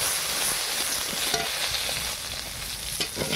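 Beans, pointed gourd and other vegetables sizzle in a pan for bitter gourd leaf chachchari while being stirred, a constant close frying hiss with scraping and light knocks.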